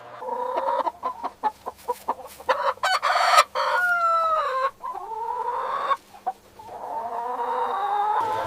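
Broiler breeder hens in an enclosed, controlled poultry house, clucking busily and close, with short repeated calls and longer drawn-out squawks overlapping across the whole stretch.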